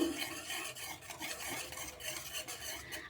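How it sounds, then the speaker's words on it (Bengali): Powdered milk being stirred into liquid milk with a spoon, a quiet continuous swishing and light scraping of the spoon against the bowl, faint and close with no talking. "সব কিছু একসঙ্গে এইভাবে দুধের সঙ্গে গুলে নেবো"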